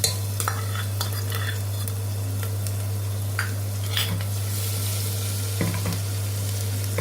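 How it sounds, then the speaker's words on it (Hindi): Lightly crushed garlic sizzles steadily in a spoonful of hot oil in a cooker, a continuous frying hiss with occasional small stirring clicks and pops, close and moderately loud, with no voices. "तेल में मैं डालूंगी लहसुन, जिसे मैंने हल्का सा क्रश किया हुआ है।"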